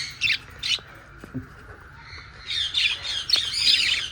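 Budgerigars chirp as they come out of a cage into an open aviary. Short, bright squawks and tweets come in scattered bursts, faint at first and then busier and overlapping toward the end.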